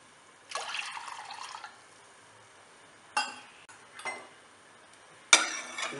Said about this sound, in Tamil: கொஞ்சம் தண்ணியும் விட்டுக்கலாம்.